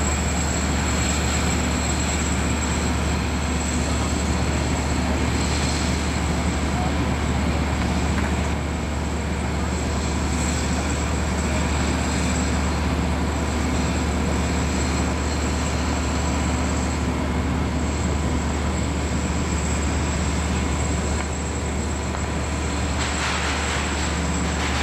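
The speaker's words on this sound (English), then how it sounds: "You can hear the turbo." A diesel train locomotive idles at a station, a constant loud, deep engine rumble with a thin, high turbo whine sustained over it and no voices.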